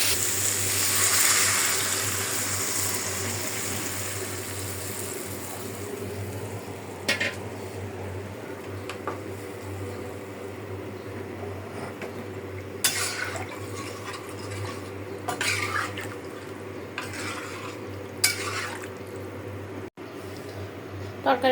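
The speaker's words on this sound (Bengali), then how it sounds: "এখন দিয়ে দিব পানিটা" Water poured into curry frying in a pot: a strong broad hiss of liquid hitting the hot pan for the first few seconds, fading into a low simmer with scattered clinks of utensils against the cookware.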